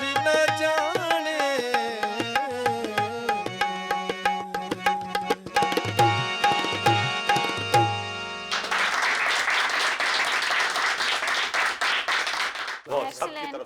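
An audience at a televised music show breaks into loud, dense applause after singing and instruments fade, the clapping sustained for several seconds before tapering.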